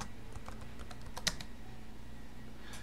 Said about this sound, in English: type in my user password, retype in my password